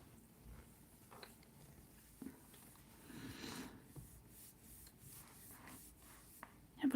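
Soft scratchy strokes of a pencil across paper come in short bursts, quiet and close, with faint rustling and a sharper noise at the end.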